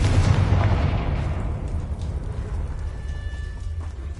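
In the video game Hogwarts Legacy, a Confringo blasting spell goes off in a single loud, booming explosion at the start, followed by a rumbling tail that gradually fades, without speech.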